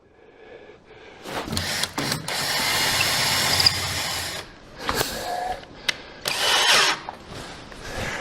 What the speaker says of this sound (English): I'm just going to run the Kreg screw